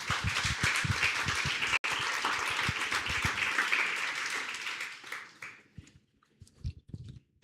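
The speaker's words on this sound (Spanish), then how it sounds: "Por favor, denle un aplauso al Rey." A church congregation at a Spanish-language service claps, a dense, lively round of applause that thins out and fades, leaving a few scattered claps at the end.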